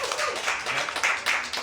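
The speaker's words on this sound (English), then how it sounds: "if you know them, clap for them" Audience members at a live podcast taping in Longmont clap briefly, giving a short, moderately loud burst of scattered applause.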